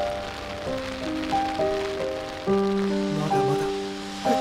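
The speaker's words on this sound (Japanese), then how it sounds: "雨が降っています。" Steady rain hiss falls outdoors during the Tokyo Extreme Walk 100 spring 2023 long-distance walk, a continuous soft wash heard beneath a prominent, tonal stepped melody.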